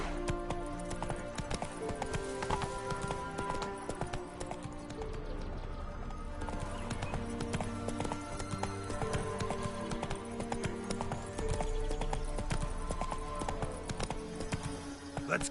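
Horse hooves clip-clopping at a run in the Witcher 3 open-world game on PS5, a steady dense rhythm of hoofbeats over game music and ambience, with an occasional whinny.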